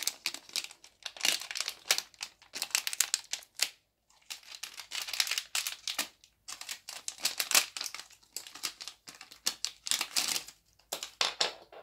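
Crinkling plastic packaging of a PCIe x1 extension cable being opened, for mounting an Asus Strix sound card: close, dry bursts of rustling and crackling in irregular clusters with short pauses, no talk.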